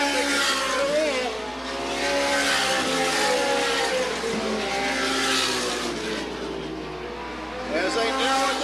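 Late model stock cars racing in 1985 at Sandusky Speedway, a steady loud roar of engines running lap after lap, with an announcer talking over it throughout.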